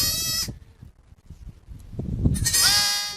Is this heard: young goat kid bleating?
yes